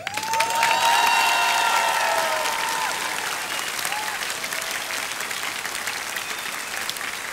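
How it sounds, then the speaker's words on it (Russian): A concert audience applauds and cheers loudly, a thick sustained wash of clapping with shouts and whistles rising over it early on, then settling into steady applause. "Шум ваших аплодисментов."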